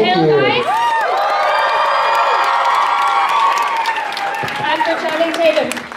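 Large crowd cheering, whooping and applauding at a public appearance by film actors, loud and sustained with high shouts and screams over dense clapping.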